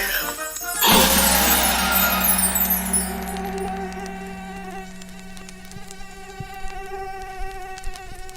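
A high, thin mosquito whine hangs steadily after a sharp crash-like burst at the start, buzzing continuously at close range with small flickers, alone without speech.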